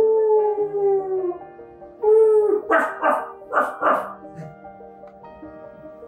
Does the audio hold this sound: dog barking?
yes